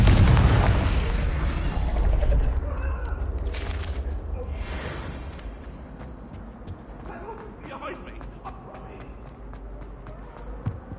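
A Confringo fire spell explosion in the Hogwarts Legacy video game, a loud deep boom that opens the clip and rumbles away over several seconds, followed by lighter crackles and faint game ambience.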